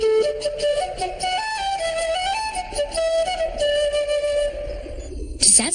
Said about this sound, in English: It's a flute.